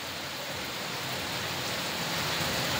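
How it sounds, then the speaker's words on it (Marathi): Steady rain falls in an even, continuous wash of noise that stays at a moderate level throughout, with no talk or other sounds over it. "पाऊस सुरू आहे."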